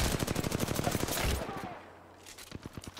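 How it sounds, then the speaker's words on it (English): Enemy gunfire in the video game Apex Legends, rapid bursts of automatic shots rattling close, breaking off briefly, then resuming in a quicker, lighter volley. "enemies are shooting at me"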